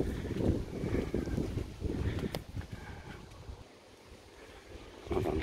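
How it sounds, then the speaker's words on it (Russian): Fresh sea wind gusting over a seaside hotel path by the Mediterranean, rumbling steadily into the microphone at close range, easing briefly near the end before rising again. "Свежий ветерочек. Море дует."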